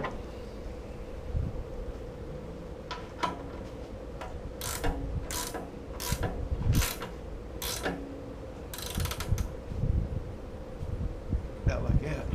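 Ratchet clicking on the oil pan bolts of a 1964 Plymouth Barracuda during an engine swap, in short bursts of quick clicks separated by pauses, close by, under a faint hum and light background noise.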